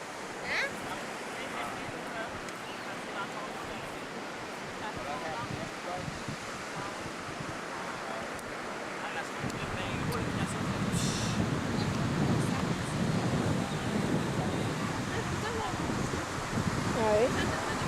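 Wind buffets the microphone on a seashore at low tide while waves wash in a steady, broad rush that grows louder halfway through; a few distant voices speak faintly.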